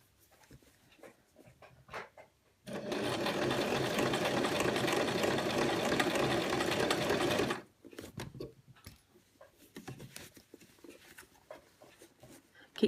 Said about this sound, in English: make very, very sure that you're not sewing the trouser leg to itself underneath